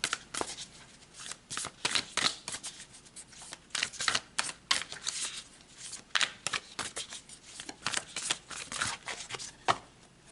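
A deck of tarot cards is shuffled by hand in quick repeated riffles and bridge flutters, close and crisp, with no talking.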